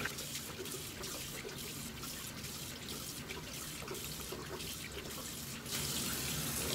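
Tap water runs steadily from a faucet into a sink while makeup is rinsed off a face, a continuous close splashing with no voices.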